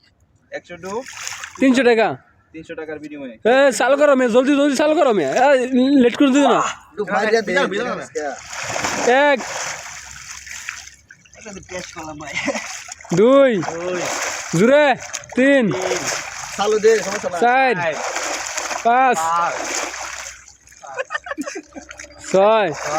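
A young man repeatedly dives into water at night for a bet, making irregular splashes and sloshing under loud, frequent talking and shouting voices close by.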